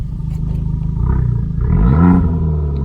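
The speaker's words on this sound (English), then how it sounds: "in sports mode, just take a listen to how good that you can hear the audibly the exhaust note change" An Abarth 595 Esseesse with a standard Akrapovic exhaust in sports mode, a loud, close, deep growling exhaust note that swells as the engine revs rise, with no talking.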